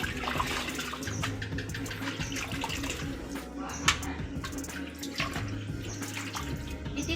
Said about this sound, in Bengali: চাল কুমড়োর পাতাটা একটু ভালো করে ধুয়ে নেবেন